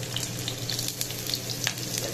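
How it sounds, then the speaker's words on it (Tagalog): Garlic and onion sautéing in a pan, a steady close sizzle and crackle of frying with faint stirring, no voices. "ngayon po magigisa na po tayo. Unahin po natin ang bawang, ang sibuyas."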